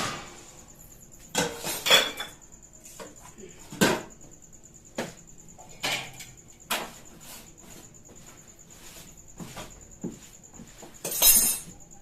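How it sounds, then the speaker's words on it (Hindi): Dishes and utensils being washed in a kitchen sink: a steady run of clinks, clatters and knocks of metal pots, plates and cutlery, some sharp and loud, spaced irregularly over a quiet background with no talk. "वो सारे काम से निपट के मैं यहाँ बर्तन कर ले रही हूँ साफ़, क्योंकि फिर भर जाएगा सिंक"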